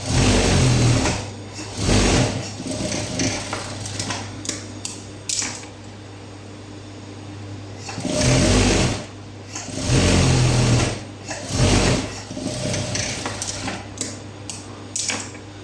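Sewing machine running close by while stitching a blouse sleeve, in several loud whirring bursts of rapid stitching separated by quieter pauses and fabric handling.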